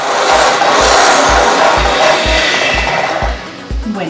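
Hand or stand mixer beating cream with stevia and vanilla into chantilly, a steady loud whirring and rubbing with regular rhythmic thumps about twice per second, close and continuous.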